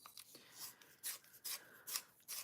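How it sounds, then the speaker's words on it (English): A Charlotte Tilbury sharpener shaves a lip liner pencil in short, soft scraping bursts, repeated rhythmically several times, close and quiet with no talk. "Ooh, she needs a sharpen. A little Charlotte Tilbury sharpener."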